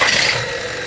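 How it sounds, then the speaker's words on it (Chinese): A car engine that was recently overhauled idles on a cold start with a loud, abnormal droning hum under broadband mechanical noise, close and steady for under a second, with no voices. "发动机着车的时候噪音特别的大"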